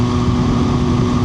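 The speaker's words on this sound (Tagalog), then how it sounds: "Sobrang mechanical yung sound ng MV Agusta." MV Agusta Brutale 675 three-cylinder motorcycle engine running close by, a loud, steady mechanical drone with a firm low hum that holds evenly throughout the short stretch.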